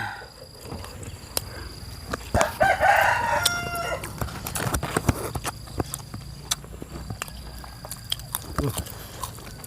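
A rooster crows once, fairly near, early on, followed by scattered sharp clicks and knocks over a steady outdoor background.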